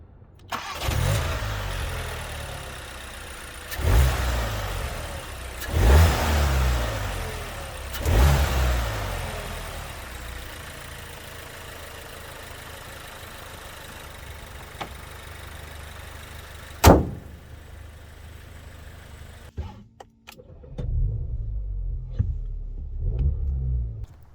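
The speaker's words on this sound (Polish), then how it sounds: "Tak silnik brzmi." A Cupra Leon Sportstourer 2.0 TSI petrol engine, 310 hp with DSG and 4Drive, starts and revs in several separate bursts, each rising and falling, with idle rumble between and a sharp blip near the end.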